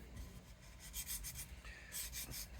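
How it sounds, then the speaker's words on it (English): Quiet hand sanding on the wooden neck of a Martin HD-28 guitar: soft repeated rasping strokes in an irregular back-and-forth rhythm, close by. "I'm making you guys watch me sand things."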